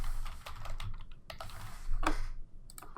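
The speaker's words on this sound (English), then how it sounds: "And then when I go to type in my text," Text is typed on a computer keyboard as a quick, irregular run of close, crisp key clicks, with a couple of louder taps. No one speaks.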